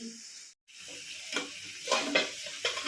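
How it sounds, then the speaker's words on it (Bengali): Snake gourd fries with panch phoron spices in a home kitchen pan. Steady oil sizzle runs under repeated sharp stirring scrapes, broken by one brief gap near the start. "পাঁচ ফোড়ন দিয়ে চিচিঙ্গেটা এরকম চাপিয়ে দিয়েছে"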